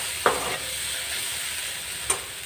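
Okra bhaji cooked in black masala with coriander sizzles steadily in a pan, with two distinct scraping stirs of a spoon over the constant frying hiss.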